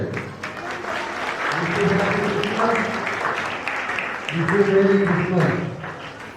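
An audience at a gathering in an RCM church claps together in a loud, sustained burst of applause that swells twice, with voices mixed in.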